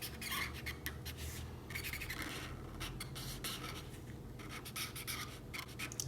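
A grey marker, shade 7, rubbing back and forth across paper to shade and colour a cartoon emoji drawing, with steady scratchy strokes in quick repeated bursts, close and fairly quiet, no talking.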